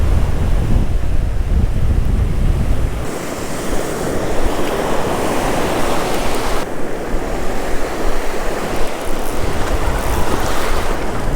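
Ocean surf at Bob Hall Pier in Corpus Christi: waves crash and wash in close and loud, with heavy wind rumbling across the microphone throughout.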